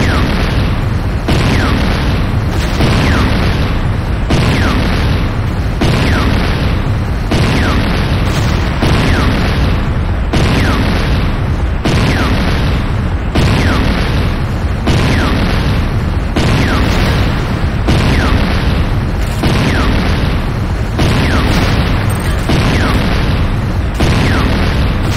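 Loud, continuous barrage of booming explosions as a GDI Harvester comes under attack in the game Renegade, dense repeated blasts filling the whole stretch with little pause.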